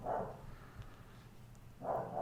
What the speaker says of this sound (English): Oh, why is my dog barking so much?